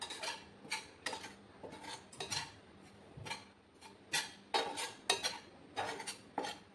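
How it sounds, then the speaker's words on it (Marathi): Besan and wheat flour being dry-roasted in a metal pan over a low gas flame, with a spatula scraping and clinking against the pan in an irregular stirring rhythm, close and moderately loud, no talking. "तर याला बेसन आणि गव्हाच्या पिठाला खमंग कमी गॅसवर भाजून घ्यायचं आहे"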